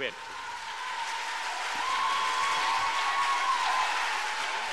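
Applause in a hall after a speech against nuclear power plants, a steady, fairly distant wash of clapping from a large assembly that swells gently and holds without pause.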